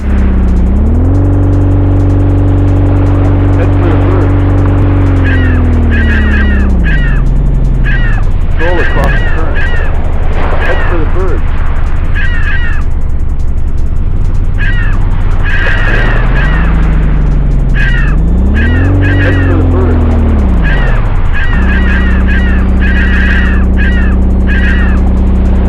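A roaring boat engine in a PS1 fishing video game, a loud droning hum that rises and falls in pitch, with repeated bird calls above it and a steady ocean wash underneath.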